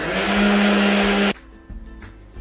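A blender whirs loudly and steadily, beating homemade pepper mayonnaise as oil is added, then cuts off abruptly after about a second, leaving quiet room noise and faint clatter.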